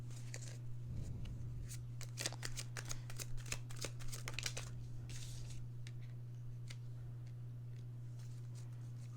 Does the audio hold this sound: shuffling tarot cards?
yes